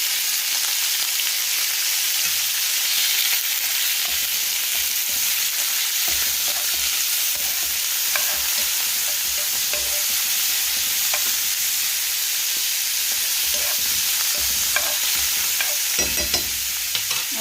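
Octopus pieces fry with browned garlic in a pan for Italian-style pasta, a loud continuous sizzle broken by frequent scraping and clinking as they are stirred.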